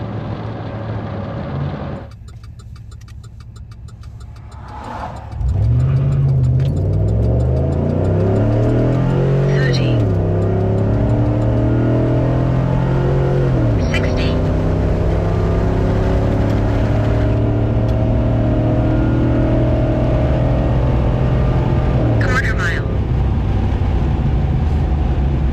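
A vehicle on a quarter-mile run, with traction control switched off, launches and accelerates hard, its engine note climbing loud and close through repeated gear-change dips as the tires briefly spin.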